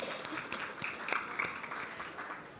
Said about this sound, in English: I suggest we give them a big round of applause just to warm us up